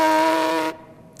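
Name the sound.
brass player buzzing lips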